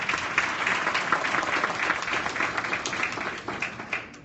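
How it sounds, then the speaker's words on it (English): An audience at an African American education summit panel breaks into sustained applause, loud and dense clapping that holds for about four seconds before tapering slightly. "Let's give him a big round of applause."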